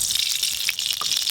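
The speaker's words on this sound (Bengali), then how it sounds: "কড়াতে সর্ষের তেল দেব" Mustard oil being poured into a wok, producing a brief close liquid gush with a faint splatter.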